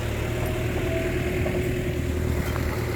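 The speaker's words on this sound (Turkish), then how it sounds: "traktör yine sulamaya devam ediyor arkadaşlar" Tractor engine idling and running steadily during field watering, a low continuous mechanical drone with faint rattling, heard from moderately close with no talking.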